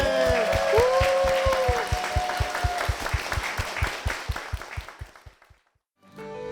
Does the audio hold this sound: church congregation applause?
yes